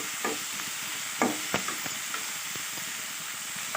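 Masala frying in a pan, a steady broad sizzle with occasional stirring scrapes and pops, close and alone throughout.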